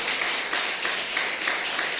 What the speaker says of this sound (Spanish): Un aplauso para el Rey de Reyes y Señor de Señores.